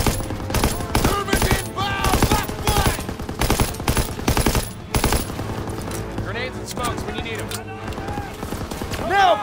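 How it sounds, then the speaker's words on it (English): Machine gun fire in the Call of Duty WWII game, battle on Hill 493: rapid bursts of gunfire rattle loudly through the first half, mixed with shouting soldiers and battle noise throughout. "Suppress that MG!"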